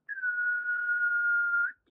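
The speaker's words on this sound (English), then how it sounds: "here's a recording of me trying to whistle a single note" A person whistles one steady, sustained note for about a second and a half, clean and fairly quiet with a slight bend at both ends, alone against silence.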